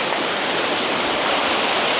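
Rushing water thunders down the Tumpak Sewu waterfall, a dense, steady roar of spray and falling water, loud and close with no break.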